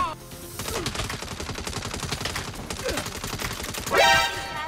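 Gunfire from the Saints Row (2022) video game, with rapid, loud bursts of shots running throughout and a sharper blast near the end.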